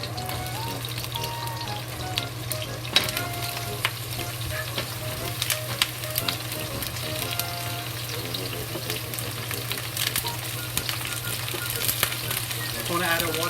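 Cauliflower fries with onion and garlic in a hot wok, giving a steady sizzle with scattered stirring clicks and scrapes at moderate level, running throughout without talk.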